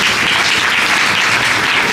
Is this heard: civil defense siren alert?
no